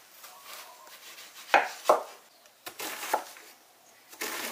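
A knife chops onion and mushrooms on a cutting board, giving a few sharp, close thuds at an uneven pace against a quiet kitchen background.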